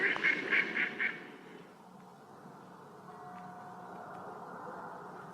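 Ducks at a picnic in a park quack in a quick run of about five loud calls, then fall away into a soft background hum. It is a storybook sound effect.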